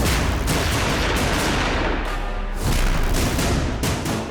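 Rapid, loud bursts of gunfire crackle continuously over a dense rumbling background, with repeated sharp cracks and booms and no voices, as someone on a motorbike fires on people in a TV crime drama.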